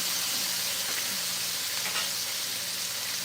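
Shrimp and vegetables sizzle in a pan for a stir fry, producing a continuous, fairly loud frying hiss with small crackles. It stays steady throughout with no one speaking.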